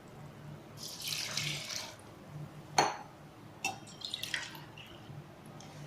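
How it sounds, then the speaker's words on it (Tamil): Water runs from a tap and splashes into a cooking pot while black urad dal rice is being prepared, several short pours and splashes with clinks of the vessel, fairly quiet and with no speech. "இப்போ தண்ணி ஊற்றுவோம்."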